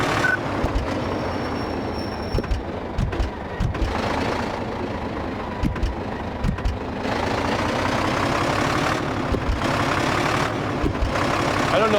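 In Truck Mechanic Simulator 2015, a truck engine drones steadily on a test drive, a loud continuous rumble with rattly grinding, while someone talks over it throughout.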